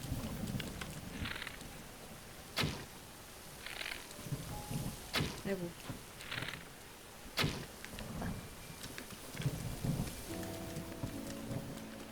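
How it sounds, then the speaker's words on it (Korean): Thunder cracks and rumbles during a lightning storm in The Legend of Zelda: Breath of the Wild, several sharp strikes over a steady bed of rain, with a faint voice occasionally beneath. "무섭게 자꾸 번개가 치고 있어."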